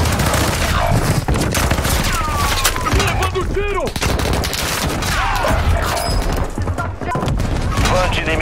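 Dense, loud gunfire from the Call of Duty Warzone 2.0 video game, rapid automatic bursts with heavy thumps and booms layered over one another, with voice chatter mixed in.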